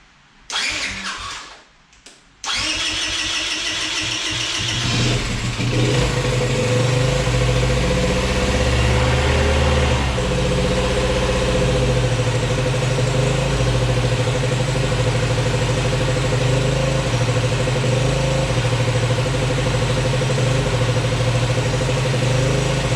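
A Yamaha Grizzly 80 ATV engine, running too lean, starts after a brief moment and then runs loud and steady at close range, a continuous buzzing drone with no talk.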